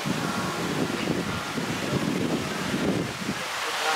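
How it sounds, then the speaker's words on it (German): Sea waves and wind at a beach on Koh Phangan, Thailand, a continuous rushing wash of surf mixed with wind buffeting the microphone, fairly loud and unbroken. "jetzt sind wir hier am Meer"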